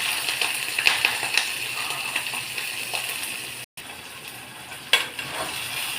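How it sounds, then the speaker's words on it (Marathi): Green chilies go into browned garlic sizzling in hot oil for a Marathi-style tempering, a steady close frying hiss with a few sharp clinks and stirring knocks, plus a brief drop-out partway through. "लसूण छान ब्राऊन झाल्यानंतर आपल्याला याच्यात मिरची ॲड करायची"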